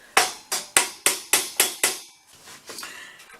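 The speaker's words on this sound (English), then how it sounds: "When in doubt, get a hammer." A hammer taps metal pipes into place with seven evenly spaced, sharp strikes, close by, followed by softer scraping and knocking as the pipes shift.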